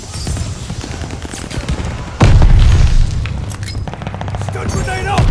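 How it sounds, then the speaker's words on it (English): Heavy mortar blasts in the shooter Call of Duty Vanguard multiplayer, a loud booming impact amid rattling gunfire, with shouted voices over the din. "Mortars incoming!"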